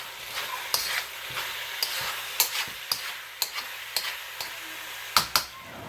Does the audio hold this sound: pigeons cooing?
no